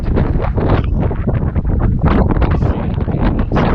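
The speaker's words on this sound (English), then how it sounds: "This is very windy spot" Strong gusty wind buffeting the microphone beside a mountain lake in the Wind River Range, loud rumbling bursts that rise and fall continuously.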